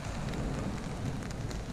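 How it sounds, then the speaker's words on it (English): Steady heavy rain falls outdoors on a fishing trip in miserable weather, a dense continuous hiss and patter, close and loud, with no speech over it. "It hasn't stopped raining."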